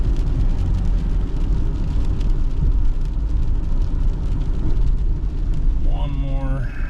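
A 2016 Subaru Forester drives along with a steady road and engine rumble, then brakes hard, the noise fading toward the end, while people talk over it.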